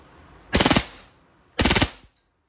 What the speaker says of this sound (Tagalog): Pag full auto naman, rapid firing.